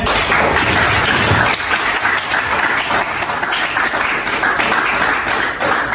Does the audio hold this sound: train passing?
no